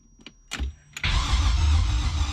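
A BMW E36 with an LS V8 swap gives a couple of short clicks and a brief crank burst, then catches and settles into a loud, steady engine rumble.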